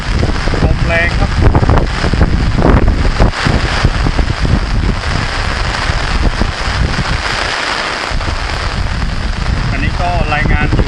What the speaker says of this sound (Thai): นี่ตกหนักมากครับตอนนี้ตกตั้งแต่เมื่อคืนครับ